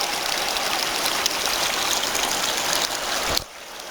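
A small stream flows steadily over ore-bearing rock along an old mining road, a continuous close rushing wash that drops off abruptly near the end where the water disappears underground.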